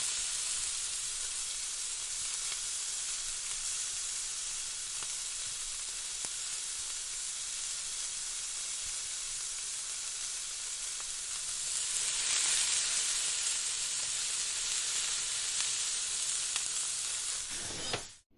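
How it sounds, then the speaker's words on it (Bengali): Prawns fry in hot white oil over medium-high heat, making a steady, loud broadband sizzle that holds for the whole stretch, swells slightly toward the end, then cuts off abruptly. "এবার তেলের মধ্যে দিয়ে আমরা মিডিয়াম টু হাই পাওয়ারে একদম এপাশ ওপাশ করে করে ভেজে নেব।"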